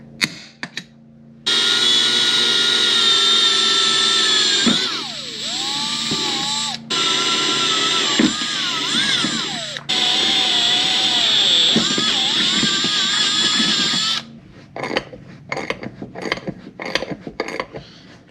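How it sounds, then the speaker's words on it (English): A power drill bores and taps a hole for a water/methanol injection nozzle, whining loudly in long continuous runs with pitch dips under load and short pauses between passes, followed by scattered clicks and handling noises. "So let's go ahead and get set up and start drilling and tapping this thing."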